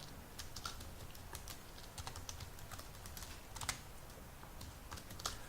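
Steady typing on a computer keyboard while writing code, with quick, fairly quiet clicking keystrokes that arrive in bursts without pause over low background hum.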